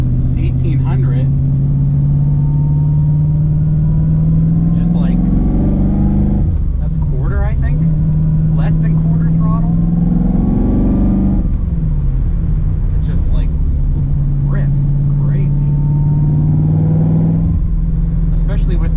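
A supercharged LSA-swapped Nissan G35 pulls hard in third gear from a rolling start, its V8 engine droning loud and close with rising pitch in repeated surges, and a person talks over the engine noise.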